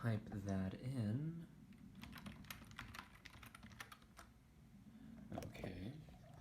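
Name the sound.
typing on a computer keyboard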